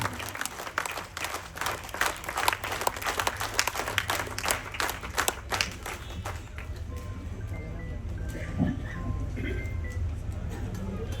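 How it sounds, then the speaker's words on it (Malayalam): Dense, steady applause greets the newly elected Vanimel grama panchayat president as he is welcomed onto the stage. The clapping fills the first six seconds, then thins out and gives way to a low crowd murmur. "വിജയിച്ച ശ്രീ പി പ്രദീപ് കുമാർ അദ്ദേഹത്തെ നിറഞ്ഞ കയ്യടിയോട് സ്വീകരിക്കുക"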